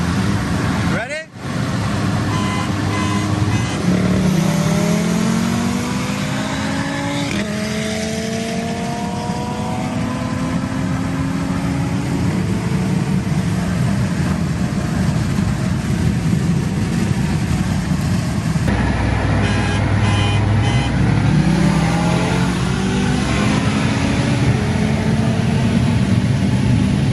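A tuned Audi RS3 and a tuned BMW X5M roar at full throttle side by side, pitch climbing through repeated gear shifts, loud and close, with a voice speaking over the engine noise.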